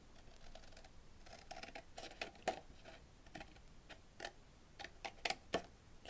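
Scissors snipping a narrow gap in card for a handmade beer caddy, heard as a series of faint, irregular crisp clicks and snips with short pauses between them, close to the microphone with no talking.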